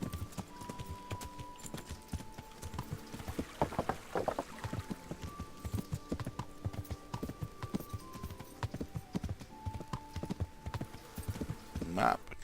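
Horse hooves clip-clop steadily at a walk in Kingdom Come Deliverance, with a rhythmic, even gait beneath game ambience and occasional faint tones, fairly quiet overall.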